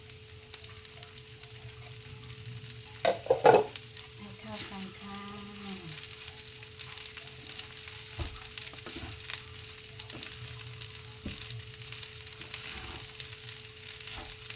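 Rice with Chinese sausage and minced pork stir-fries in a hot pan, a steady hiss of sizzling broken by a couple of sharp spatula clanks, with a faint hum underneath.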